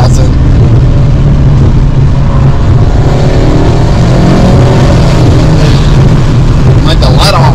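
Turbocharged car with a 6-inch velocity stack intake pulling hard in third gear to about 4,000 RPM, a loud sustained engine drone inside the cabin, ending in sharp high-pitched diverter valve bursts on let-off.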